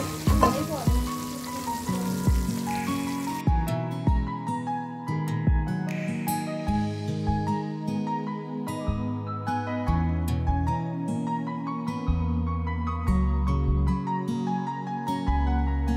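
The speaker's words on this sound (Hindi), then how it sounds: "अब हम इसको चिकन हलीम के अंदर भगार डाल देंगे" Hot tadka poured into a pot of chicken haleem gives a steady, loud hiss and crackle of sizzling oil that keeps going, close and with no talk over it.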